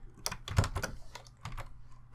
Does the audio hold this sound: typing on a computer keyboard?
yes